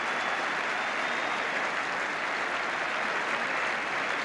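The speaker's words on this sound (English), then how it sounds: "So sporting applause for John McCall." A football stadium crowd applauds an injured player at a Watford cup match, a dense, even, continuous roar of distant clapping held at a constant level throughout.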